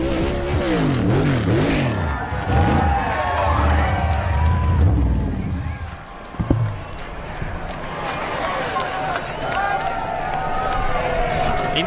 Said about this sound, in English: look at the burnout by Stenhouse out the window